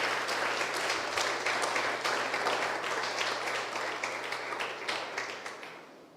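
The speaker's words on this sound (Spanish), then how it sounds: "Le damos un aplauso al Señor." A church congregation applauds, a dense, loud sustained clapping that gradually tapers off toward the end, with a low steady hum underneath.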